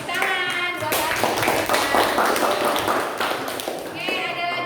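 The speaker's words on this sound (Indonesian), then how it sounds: "tepuk tangan buat Atika" A classroom of students claps for a classmate during a teaching assessment at a university, a dense steady patter of hands that fills the clip, with voices talking briefly at the start and end.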